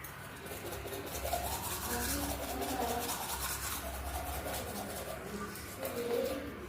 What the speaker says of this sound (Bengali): এখন দাঁত মাজবো